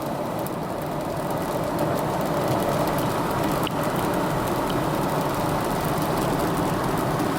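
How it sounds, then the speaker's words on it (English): An original GMC Denali's engine drones steadily under throttle as the truck accelerates and shifts from third into fourth gear, heard as a continuous loud road and engine roar from inside the cab. "giving it some throttle. You can see it accelerates and get up to speed nicely. Shifts nicely."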